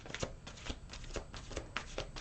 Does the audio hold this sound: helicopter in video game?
no